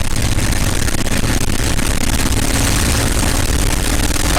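North American P-51 Mustang piston aircraft engine running at about 2,300 RPM during ground run-up, a loud, steady, dense roar with constant low rumble filling the whole stretch.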